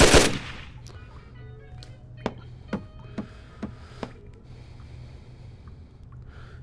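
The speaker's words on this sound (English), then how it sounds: "there's that gun, the Sten, which I love" A Sten submachine gun in Gun Club VR: a loud opening blast, then five or six sharp single reports at uneven intervals, each ringing briefly over a low background hum.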